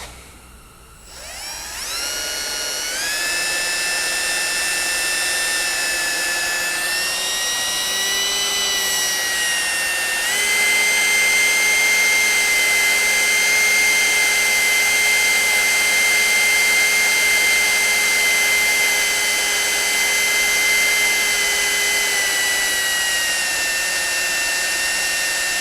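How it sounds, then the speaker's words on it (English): A drill boring through the flywheel of an Onan 140 WE generator with an 884 cubic inch V8, near the ring gear, gives a loud, steady high-pitched whine that holds for about twenty-five seconds, shifting pitch slightly as the bit works through the metal. "So let's go ahead and drill this on through."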